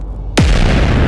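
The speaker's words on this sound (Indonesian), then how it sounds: "Apa itu suara ledakan di luar?" A missile warhead explodes outside at night, a sudden loud close boom that rolls into a sustained heavy rumble.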